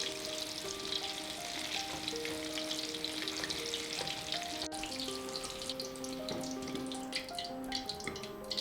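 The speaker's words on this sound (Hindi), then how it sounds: "ये देखिए, पनीर के पकोड़े तैयार हो गए हैं" Paneer pakoras deep frying in hot refined oil, a steady close crackling sizzle with bubbling throughout, no voices.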